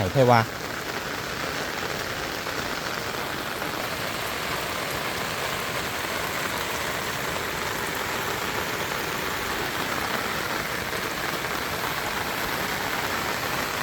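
Steady, even rain patters across a rice-field countryside scene, a continuous close hiss of drops on a surface lasting throughout, with a brief louder burst at the very start.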